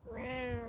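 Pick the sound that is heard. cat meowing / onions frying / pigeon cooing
cat meowing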